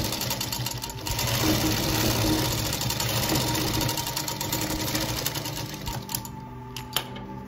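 A sewing machine stitches a baby bonnet, with a rapid, steady mechanical whir and needle chatter running almost continuously before slowing into a few separate clicks near the end.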